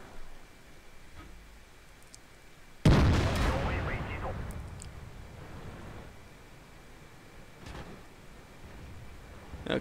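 A tank cannon fires in World of Tanks during a battle involving an IS-2 and a KV-3: one sudden loud blast followed by a long rumbling decay, with quiet background sound before it.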